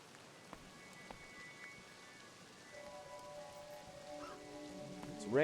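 Soft, steady rain patters and hisses in the video game Crow Country, faint and even, with a few tonal game sounds rising and a swelling effect at the very end.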